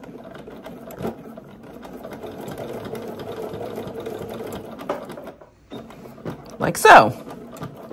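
Sewing machine stitching a belt loop onto Vinton pants, running steadily at close range with a brief pause, while a person speaks softly.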